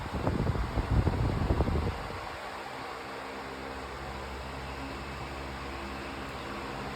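A pedestal fan runs on its medium speed setting, a steady airy whoosh with a low motor hum that settles in after a louder, rougher burst of air noise in the first two seconds.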